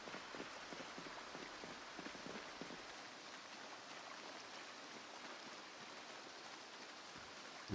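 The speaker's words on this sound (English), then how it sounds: "We're going to get out of the frickin' rain for a couple minutes here." Steady rain pours across the ground in the Project Zomboid survival game, a constant dense hiss with scattered drop patter, alone with no talk.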